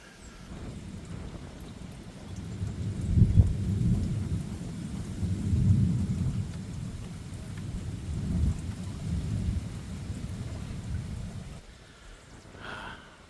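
Thunderstorm over a Tennessee mountain home, with low rolling thunder rumbling in several swells over steady rain, fairly close and moderately loud, no talking.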